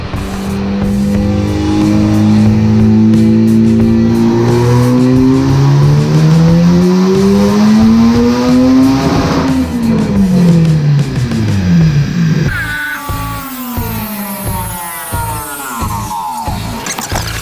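A Honda Civic Type R FK8 tuned to 750 whp on Hondata revs hard on a dyno, its loud sustained engine note climbing and falling in long sweeps before breaking into choppy, pulsing bursts near the end.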